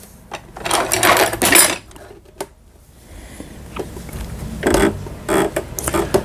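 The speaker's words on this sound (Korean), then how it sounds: "24번에 이제 옷감이 풀리지 않도록 해주는 오버록 바느질이 되겠습니다." A Brother Star 230 sewing machine runs an overlock stitch, and the machine shakes noticeably as it sews. Close, loud bursts of rapid mechanical clatter start and stop several times, with short pauses between them.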